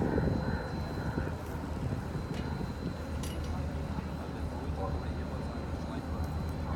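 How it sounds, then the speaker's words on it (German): An Airbus A350 XWB airliner takes off during a flying display at the ILA Berlin 2018 air show, giving a steady, fairly quiet, broad jet roar heard from a distance. "hören Sie jetzt mal hin beim Start, wie leise dieses große Flugzeug ist"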